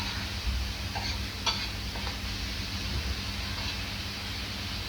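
Oyster balls and cauliflower being stirred together in a pan, a steady low sizzle with a faint utensil scrape now and then, no voices.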